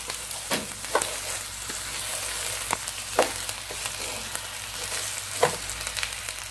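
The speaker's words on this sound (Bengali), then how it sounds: "চালটাকে একটু ভালো করে তেলের মধ্যে কষিয়ে নিয়েছি" Rice frying in oil for Old Dhaka-style kacchi biryani gives a soft, continuous sizzle close by, broken by several sharp clinks of a spoon stirring against the pot.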